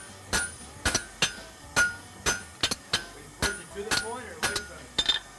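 A hammer strikes a horseshoe on an anvil during forging, ringing out in about a dozen sharp metallic blows at an uneven rhythm, close and clear, with quieter clinks between the heavier hits.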